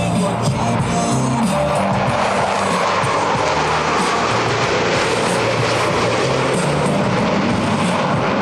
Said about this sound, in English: they will have an opportunity to get a close look at the precision flying that produces the 18-inch wingtip to canopy separation between these 4 aircraft